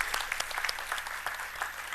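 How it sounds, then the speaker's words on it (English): Audience applause at a Drupal community camp in Pune, a dense steady patter of many hands clapping together for two seconds, moderately loud with no talk over it. "So a big round of applause, please."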